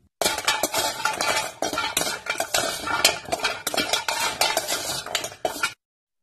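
Spices and rice dry-roast in a kadai pan for sambar powder, stirred with a metal spoon that rattles and scrapes continuously and loudly. The stirring stops abruptly near the end, and nobody talks.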